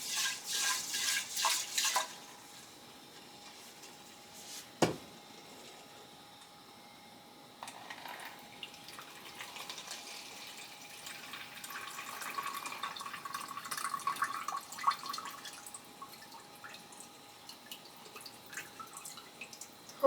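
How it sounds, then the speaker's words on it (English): Warm water runs and splashes over rice being washed in a kitchen, starting with brief trickling, then a sharp knock, then a longer stretch of soft, close swishing and dripping. "I do my first wash of rice with warm water."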